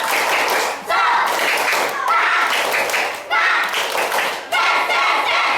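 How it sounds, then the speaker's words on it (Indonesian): Children in a classroom clap a rhythmic group cheer together, standing as a class, loud bursts of patterned clapping and thumps in several repeated phrases. "kita tepuk semangat dulu"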